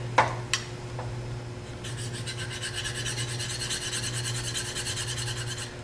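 A knife is sharpened on a fine red 600-grit stone, starting with a few sharp taps, then a run of rapid, even rasping strokes that repeat rhythmically and close-up to the end.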